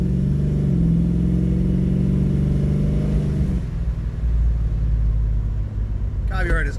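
A 318 V8 car engine on a test drive rumbles loudly and revs through changing pitch, with someone speaking briefly near the end.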